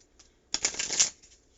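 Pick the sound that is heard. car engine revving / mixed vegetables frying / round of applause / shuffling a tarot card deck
shuffling a tarot card deck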